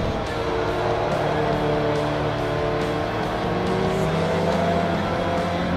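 A race car engine drones steadily and loudly in Forza Motorsport 3, with a continuous sustained roar and shifting tones as the car drives on, with no pauses.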